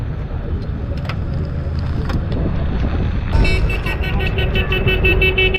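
A boat horn sounds loudly near the end over steady wind and engine rumble on the water, a sustained tonal blast starting after a few seconds of outdoor noise.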